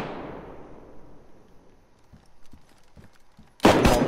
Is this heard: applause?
no